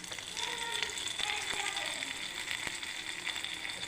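Hot tempering poured into ground coconut chutney, crackling and sizzling loudly and continuously with sharp pops scattered through, under a person talking.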